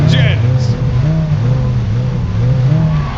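Toy-style race car engines in a Hot Wheels Custom Motors Cup Baja truck race rumble and rev in rising pulses, loud and close, with a brief shout at the start.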